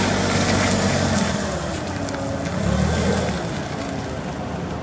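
A 2002 Cat GC25K cushion tire forklift driving, giving a steady broadband motor hum and rumble with some wind-like noise, fairly loud and continuous, no talking.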